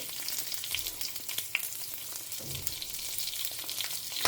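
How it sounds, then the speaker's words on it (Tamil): Mustard seeds and green chillies in hot oil sizzle steadily with small scattered pops and crackles, fairly close and continuous, no voices. "கடுகு பொரிய ஆரம்பிச்சிட்டு"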